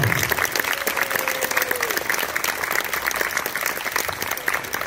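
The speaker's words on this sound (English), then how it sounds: "one more nice, wonderful round of applause for our guest vocalist" Steady applause from an audience at an outdoor band concert in a park, continuous and fairly loud throughout, with a brief tone sounding early on.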